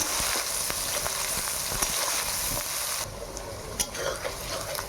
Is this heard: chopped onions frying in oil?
yes